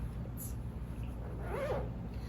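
A boxy zipper pouch is unzipped once in a single quick pull, faint and close over a steady low background hum.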